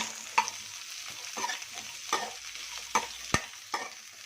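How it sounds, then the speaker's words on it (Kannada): Onions fry in a pan for chana masala with a soft, steady sizzle, while a spatula scrapes and taps the pan at irregular intervals up close. "ಡಿಫ್ರೆಂಟ್ ಈರುಳ್ಳಿ ಫ್ರೈ ಆಗ್ತಿದೆ."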